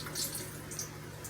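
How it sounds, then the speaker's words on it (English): Water draining and trickling out of a bowl of raw chicken during kitchen meal prep, a steady close splashing flow like a running sink. "You're going to drain that water out more"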